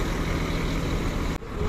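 A Hirkani bus from Maharashtra's Kolhapur depot rumbles with a steady, loud diesel engine drone at a busy Bengaluru bus stand, the noise briefly dipping before returning.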